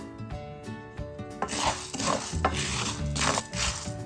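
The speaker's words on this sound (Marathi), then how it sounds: "मीडियम गॅसवरती सतत सतत आपण हा साबुदाणा भाजून घेऊया" Sago pearls (sabudana) rasp and rustle as they are stirred steadily in a pan and dry-roasted over medium heat, making a continuous scratchy scraping with repeated strokes.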